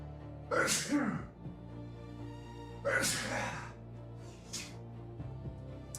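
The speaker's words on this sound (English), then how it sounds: "A huge sneeze coming on." Two explosive sneezes burst out with a pause between them, followed by a shorter breathy exhale, over a low steady hum.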